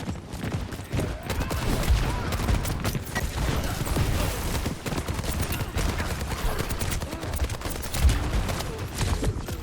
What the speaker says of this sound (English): we just sent a rocket into a random wall, and then we just sent a rocket into the sky